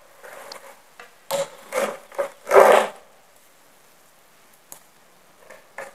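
A few short rasping bursts of a hand saw biting into bonsai wood, close by, with pauses between strokes and light handling noises after.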